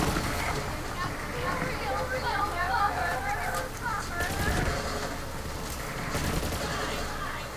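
Rapid gunfire from the Kyb's Worth legendary weapon in Borderlands 3 crackles in dense clusters, moderately loud and mixed into busy game ambience with chirpy high tones.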